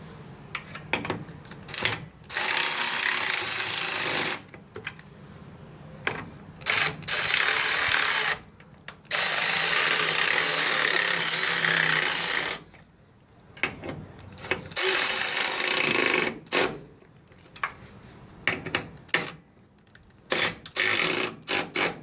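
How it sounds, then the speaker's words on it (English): Ratchet wrench tightening fasteners on the rear corner of a Fairmont MT19A railroad motorcar, heard up close in repeated bursts of quick clicking with short pauses between them and no talk. "Just take a minute here and tighten them up"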